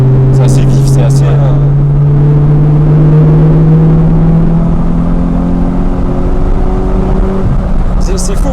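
A 2002 Toyota Celica T23 TS with its 1.8 litre VVTL-i engine revs hard and high, a loud steady climbing drone that rises in pitch for several seconds and then eases, with voices talking over it throughout.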